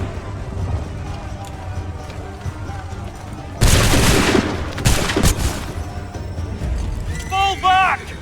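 In Assassin's Creed III, a musket volley rips out as one loud, crackling burst, followed by a second ragged round of shots, with shouted orders around it.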